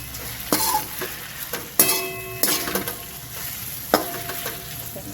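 Freshly tempered vegetable curry sizzling in a home kitchen pan, loud and close, with repeated stirring and sharp clinks of a spoon against the metal.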